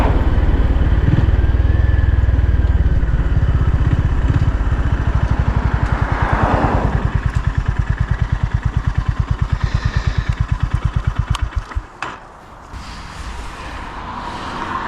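A Honda CB350 single-cylinder motorcycle engine runs loudly up close, its steady thrum shifting to a slower, pulsing idle-like chug as the bike slows and pulls in, with a brief clunk near the end.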